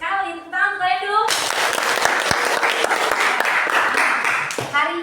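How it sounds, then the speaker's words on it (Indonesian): A brief spoken line gives way to a burst of enthusiastic applause from a group, sustained for several seconds before a voice returns at the end. "Tepuk tangan untuk kalian dulu."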